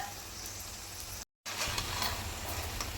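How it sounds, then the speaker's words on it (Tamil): Raw crab going into a hot frying pan for Tamil-style crab thokku gravy, a steady close sizzle and spatter that cuts out briefly, then returns a little louder and busier. "இப்போ நண்டு எடுத்து போட போகிறேன்"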